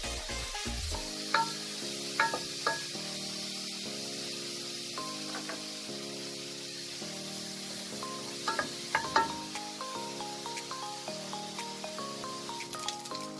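Steady sizzling and bubbling of meat cooking in a pot for paper kebab, with occasional soft clinks, no voices.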